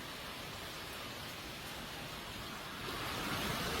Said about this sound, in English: I think it's raining outside.